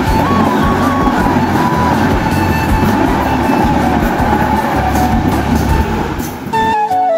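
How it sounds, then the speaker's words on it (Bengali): A train rumbles past at close range near the Ghatina bridge, a loud sustained roar of rolling wheels and rattling carriages that eases off near the end. "তো দেখেন এখন ট্রেন আসবে"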